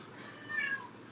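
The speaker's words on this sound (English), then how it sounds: "my cat is loud as fuck" A house cat meows once, loud and close, a short drawn-out cry rising over a low steady room hum.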